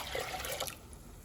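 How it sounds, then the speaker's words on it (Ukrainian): A short burst of cold water pouring and splashing into a container for a marinade, close by and fairly soft, fading out after a moment. "Вливаю 1 літр води"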